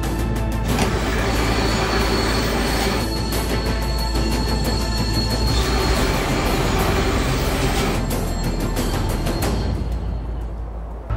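A train brakes in an emergency stop from 160 km/h, producing a loud, continuous roar of wheels and brakes that holds steady before easing off near the end.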